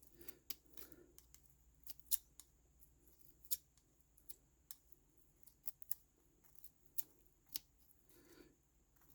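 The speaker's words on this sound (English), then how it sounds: "You can actually trim some of this excess plastic off" Scissors snip through plastic in a series of sharp, quiet clicks, irregularly spaced, close up with faint rustling between cuts.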